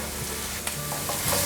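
Vegetables, carrots and baby corn among them, stir-fried in a wok: steady sizzling with quick scraping tosses of the spatula, close and loud, with no talking.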